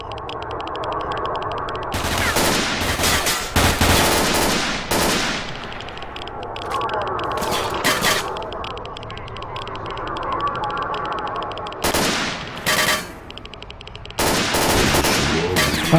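Bursts of automatic gunfire in the S.T.A.L.K.E.R. Shadow of Chernobyl video game, loud rapid volleys around two, four to five, eight, twelve and fifteen seconds over a steady ambient game background.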